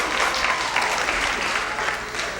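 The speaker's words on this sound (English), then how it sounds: "Applaud, girls, if you've never had a child" Applause from a stand-up comedy audience, women clapping together in a dense, steady burst that fills the room for a couple of seconds.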